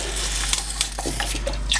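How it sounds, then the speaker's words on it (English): Half a cup of water goes into a glass jar along with soy sauce and rice wine for an Asian chicken thigh recipe, giving a soft continuous pouring splash with small drips over a steady low hum. "And then I'm going to go add a half a cup of water to this"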